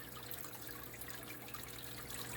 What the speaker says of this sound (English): trickly, babbly, waterfall type effect going on all around